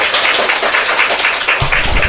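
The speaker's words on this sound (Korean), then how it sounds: "큰 박수로 맞아주시기 바랍니다." A church audience at a 30th-anniversary thanksgiving service welcomes a guest pastor with loud, dense applause, steady and close throughout.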